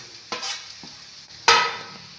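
Jackfruit thoran being mixed with a spice blend in a pan, two distinct close scraping strokes of a spatula over a faint background sizzle.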